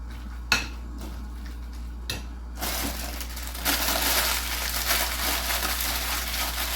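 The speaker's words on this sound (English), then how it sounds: "I'm going to crush them up right in the bag right here." Crackers crushed inside a bag for Louisiana seafood cakes give a steady close crinkling, crunching rustle that builds after a couple of sharp knocks, with no talking.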